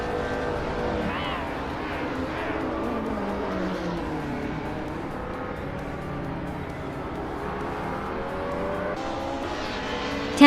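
Race cars, including a 1998 Porsche 911 GT, roar steadily through a video game race, with engine tones rising and falling continuously under a loud, even mix.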